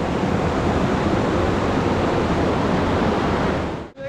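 Water pours over a dam on the Indapur-Pali road in a dense, steady roar of rushing water, loud and broadband, cutting out briefly near the end.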